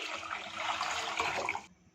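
Roughly a litre of water pours into a cooking pan on a stovetop in a home kitchen, a steady, fairly loud splashing rush for under two seconds before it cuts off abruptly.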